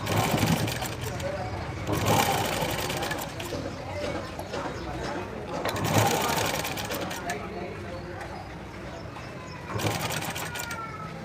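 A sewing machine top stitches a dress, its needle running in a steady close whir that swells in several short runs under continuous talk.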